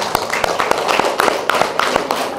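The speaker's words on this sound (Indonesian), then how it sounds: "Berikan tepuk tangan yang meriah untuk beliau." Applause from an audience at a PDI party branch gathering greets guest Elisa Kambu, a close, brisk run of individual claps with an uneven rhythm and no talking.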